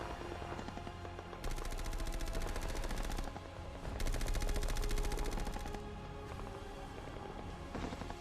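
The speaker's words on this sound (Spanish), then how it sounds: "El suelo temblaba batido por la artillería terrestre y naval británica." Dense battlefield gunfire with rapid machine-gun bursts and heavy artillery, loud and continuous in surging waves with brief dips, the ground-shaking barrage alone without voices.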